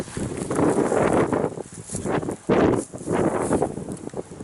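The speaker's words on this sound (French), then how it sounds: "il y a du vent" Strong gusts of wind buffet the microphone outdoors in rolling surges, a dull roaring rush that rises and falls with no one speaking.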